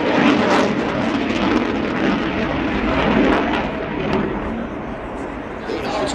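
Red Arrows jets roar overhead at an air display in Ayr, a loud, steady broadband engine rush that swells and fades slightly across the whole stretch.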